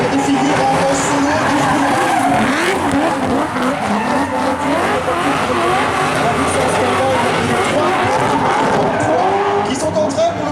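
Rally cars at a drift show during the Rallye de Wallonie spin and slide to heat their tyres, giving continuous loud tyre squeal and skidding over roaring engines, close and unbroken, with crowd and commentary noise beneath.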